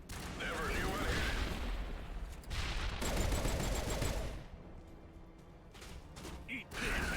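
Rapid bursts of gunfire from the Mass Effect video game, loud and dense in several volleys with short pauses, mixed with game effects and a voice talking over the shooting.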